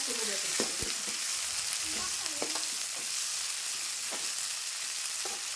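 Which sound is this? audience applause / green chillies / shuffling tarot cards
green chillies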